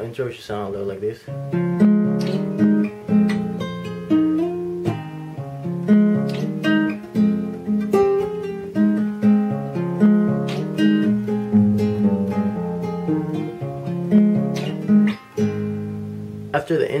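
Acoustic guitar plays the intro of a song, with steady strummed chords and picked melody notes in an even rhythm, close and clear, with no talking.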